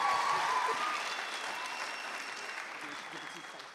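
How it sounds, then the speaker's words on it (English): Audience applause at a church talent-show final, a dense wash of clapping that begins loud and gradually tapers while continuing steadily to the end. "Can we give her one more big round of applause?"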